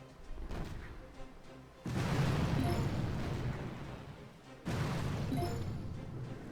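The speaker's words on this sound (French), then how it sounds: "Le canon." Two heavy booming blasts from cannons in the video game Boom Beach, each followed by a rumbling, decaying roar, with low background noise in between.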